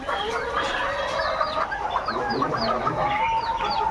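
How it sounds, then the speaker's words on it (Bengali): Pullet layer hens in a farm shed cluck and chatter continuously at close range, with overlapping calls crowding toward the listener and no one talking. "দেখুন মুরগিগুলো সব আমার কাছে আসছে।"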